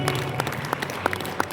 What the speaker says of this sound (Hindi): सयाजी वीर जोरदार ताली बजाएं